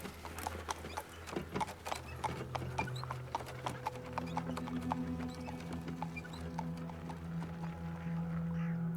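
Horses at a post station in the game Black Book give off steady clip-clop hoofbeats, moderately close, over a low continuous rumble, with a sustained tonal drone entering partway through; no one speaks.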